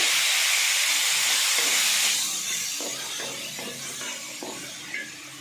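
Ground paste is poured into onions frying in a pan for a chicken gravy, setting off a loud, broad sizzling hiss that fades and settles into a steady, softer frying crackle.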